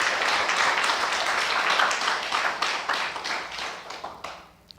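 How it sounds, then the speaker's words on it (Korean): A church congregation breaks into a dense, loud round of applause during a Methodist service, the sustained clapping filling the room before thinning and fading away near the end. "우리 하나님께 영광의 박수 한번 올려드릴까요?"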